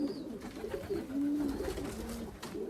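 Racing pigeons coo softly after landing, giving a few low, rolling calls up close with light background noise.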